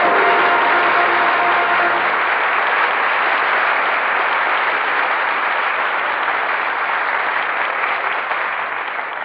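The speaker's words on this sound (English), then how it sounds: "That applause is for the valor of China" A studio audience at a 1943 radio drama broadcast applauds at the close of the play, a loud, continuous wash of clapping that stays even and then eases slightly at the end, heard alone.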